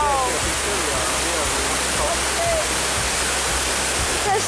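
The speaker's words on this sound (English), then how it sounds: "This is the big waterfall. It's huge." A big waterfall at Plitvice Lakes National Park roars in a dense, continuous rush of falling water into a ravine, loud and steady from start to end.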